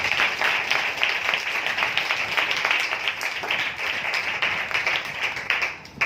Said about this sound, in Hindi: इंटरनेट के जरिए आत्मिक उत्साह की सभा में जुड़े लोगों का हम जोरदार तालियों से स्वागत करें